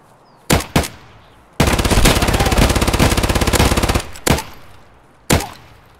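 Gunfire in the shooter game Escape from Tarkov: two sharp single shots, then a loud sustained automatic burst of rapid rounds lasting over two seconds, followed by a couple of isolated shots, close and without talk.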